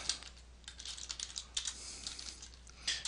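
Light, quick clicking of keys being typed on a computer keyboard, close and fairly quiet, in uneven bursts with no talk.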